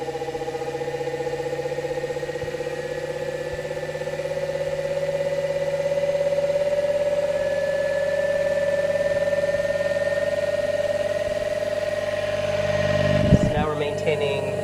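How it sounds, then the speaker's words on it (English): A Solectria AMC / UMOC motor controller test box drives an electric motor whose steady whine rises gradually in pitch, a continuous tone that holds near and even before a brief clatter near the end. "we can probably just hear the pitch will speed up"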